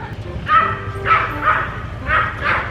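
A small Pomeranian dog yaps in short high-pitched bursts, about five barks in quick pairs across a few seconds, fairly close and loud over low background rumble.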